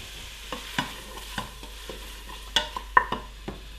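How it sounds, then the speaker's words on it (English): Chopped vegetables for tomato and red pepper soup sautéing in a pan, with a low steady sizzle broken by several sharp stirring scrapes and clinks spread across the moment. "we're just going to let them soften, or what we would call sauté, just for a moment, just for about 4 minutes"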